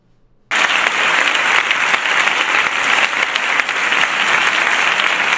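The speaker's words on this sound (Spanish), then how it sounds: "Y todos aplaudiendo." Applause in the Senate chamber bursts in suddenly after a brief quiet and continues as a loud, dense, steady clapping for several seconds.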